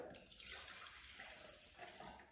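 Water pours from a cup into a jug in a continuous splashing, gurgling stream that shifts slightly as it fills, fairly quiet and with no talking over it.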